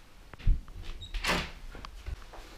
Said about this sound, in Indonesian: kalau kita mau ke toilet masuknya ke pintu ini